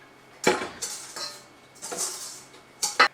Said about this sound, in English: we're just going to whisk this a little bit